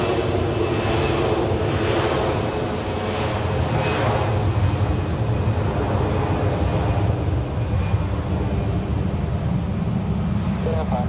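An Edelweiss airliner at Zurich Airport produces a steady, loud jet engine roar that holds for the whole stretch, with a faint voice underneath.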